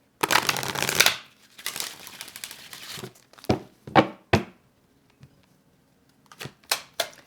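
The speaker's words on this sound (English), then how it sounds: "One more shuffle." A deck gets riffled close up in a long rustle, followed by a string of sharp card snaps and taps spaced out by brief silences.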